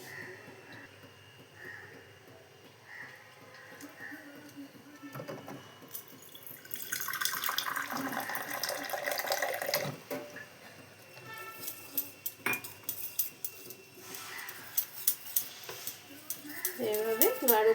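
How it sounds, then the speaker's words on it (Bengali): Water is poured in and mixed into pakoda batter, with trickling and splashing that builds in the middle and ends in close, rapid stirring and slapping strokes. A voice speaks quietly in places. "এবার আমি জল দিয়ে এটাকে গুলিয়ে নেব"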